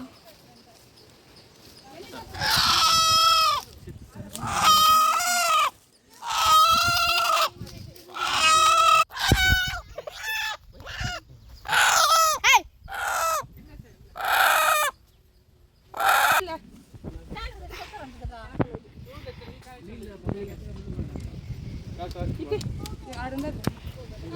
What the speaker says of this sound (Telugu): కోడి పుంజు